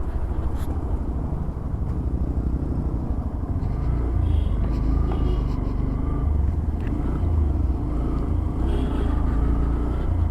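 A group of motorbikes rides together along a dark road on a cold winter night, a continuous low engine rumble and road noise heard up close at a steady level, with no talk.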